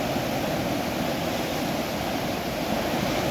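Indus River floodwater rushing through Kotri Barrage in Sindh, a loud, unbroken roar of churning water with no voices.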